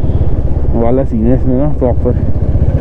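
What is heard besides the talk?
motorcycle engine running while riding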